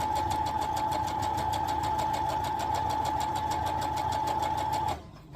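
A sewing machine stitches jelly roll quilt strips close up, a fast steady whirring hum with regular needle clatter, then stops near the end.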